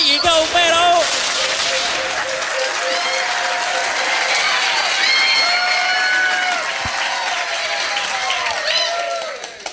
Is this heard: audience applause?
yes